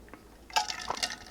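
Water is poured into a glass during a short break, a quiet close trickle with a couple of light clinks and splashes.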